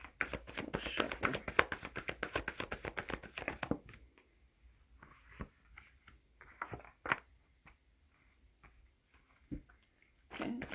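Tarot cards are shuffled by hand in a rapid run of crisp riffling taps for a few seconds, then a few scattered soft card slaps and shuffles follow in near quiet, close and fairly faint.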